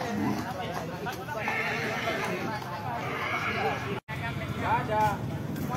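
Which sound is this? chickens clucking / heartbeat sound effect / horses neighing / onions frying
horses neighing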